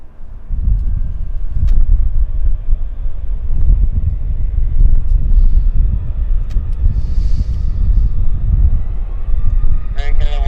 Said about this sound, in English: we got a Q400 landing